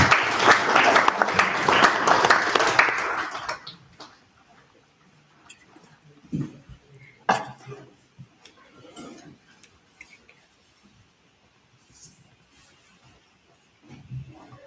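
A burst of audience applause at a Dr. B.R. Ambedkar memorial event lasts a few seconds and then stops abruptly, leaving a quiet room with scattered small knocks and shuffles.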